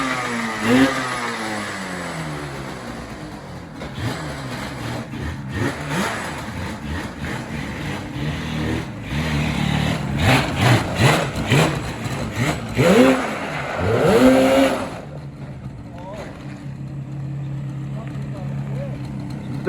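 A Yamaha Banshee motorcycle's two-stroke engine sputters to life after choking, then revs repeatedly in rising and falling bursts before settling to a rough idle, with voices talking over it.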